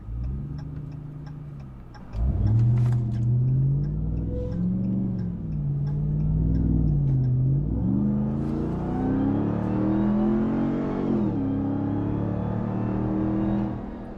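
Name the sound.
supercharged pickup truck engine accelerating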